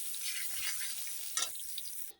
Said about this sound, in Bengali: একই তেলে আমি এখন জিরা ফোড়ন দিয়ে দিলাম জিরেটা ভাজা হয়ে গেছে এখন তেজপাতা ফোড়নে দিয়ে দিলাম